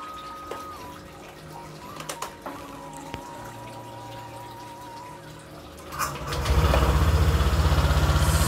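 Small motor scooter with a freshly upgraded CVT and new rollers coughs to life near the end after a quiet stretch of faint clicks and drips, then settles into a loud, steady, rapid idle.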